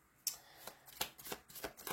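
Playing cards are riffled and flicked through in a deck, giving about six sharp, close snaps at an uneven rhythm over a quiet room with no talk.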